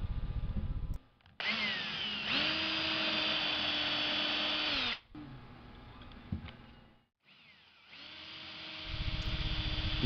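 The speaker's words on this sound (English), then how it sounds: "and then drill the hole." A power drill bores a hole through paper into a wooden frame jig, whining in bursts with pauses between, the pitch holding steady under load.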